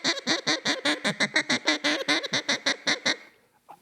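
Two duck calls blown together by a pair of champion callers, a rapid run of about twenty loud, evenly spaced quacks that overlap and then stop, with a lone short note after a pause.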